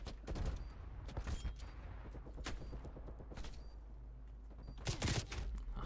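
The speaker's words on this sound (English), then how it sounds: "Multiple hostile sentry turrets working your AO." Gunfire from sentry turrets sweeps a Black Ops Cold War multiplayer map, with sustained rapid bursts and sharp cracks that swell loudly at the start and again near the end, heard alone without talk.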